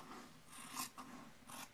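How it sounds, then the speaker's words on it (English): Scissors snip through sewn quilting fabric, a few quiet close crisp cuts with soft rasping between them, faint and without talk. "Now I'm going to cut this apart"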